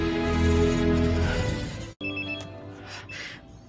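A telephone bell rings loudly and steadily in an indoor scene, stops abruptly after about two seconds, then returns more faintly for a moment.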